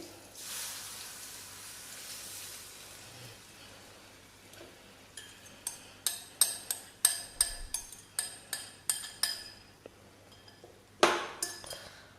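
A potato and semolina batter is whisked in a bowl, with a quick series of sharp clinks building into a steady rhythm, then one final strike, after a quiet hissing start.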